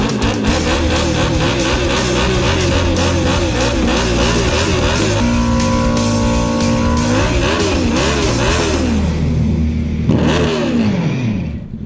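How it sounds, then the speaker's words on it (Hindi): A superbike doing a burnout on a BMW, engine revving hard and rising in pitch in repeated sweeps with sustained tyre squeal, loud and close throughout with a brief dip before a final surge. "इंट्रो देख लो जो सुपर बाइक पे बर्नआउट मारा था मैंने।"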